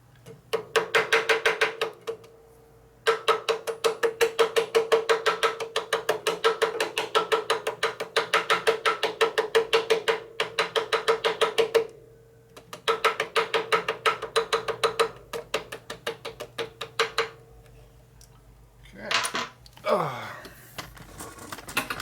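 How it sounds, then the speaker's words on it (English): Ball peen hammer beating the edge of gasket material to cut a hole on a custom Harley Evo chopper part, delivered as long runs of rapid, loud, close metallic taps with brief pauses, ending in a few scrapes. "We're using the ball peen right here to beat on the edge, and you see how it cuts the hole there pretty nicely."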